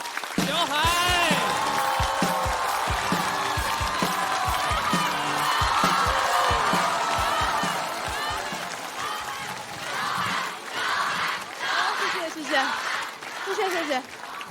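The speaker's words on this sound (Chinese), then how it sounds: "掌声欢迎小海" Studio audience at a stand-up comedy competition bursts into loud, sustained applause with cheers and whoops to welcome a female comedian, dense clapping filling the room before easing into scattered claps and shouts.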